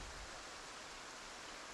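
Steady rain falling in the zombie survival game Project Zomboid, a dense, even hiss with no breaks, no voices and nothing else standing out over it.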